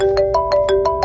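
An incoming call on a mobile phone rings with a repeating electronic ringtone, five evenly spaced bursts in about a second. It is loud and close, with no talk over it.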